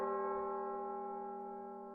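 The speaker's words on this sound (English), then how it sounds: "Was that a bell?" A single deep bell tolls at Zeus' altar in a fantasy game, a sustained resonant ring with layered overtones that slowly fades across the clip, heard alone.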